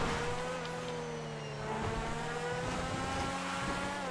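Tygon gold solar car cruising in GTA FiveM, a steady whining electric-style drone with a rising tone, moderately loud and continuous, with no talking.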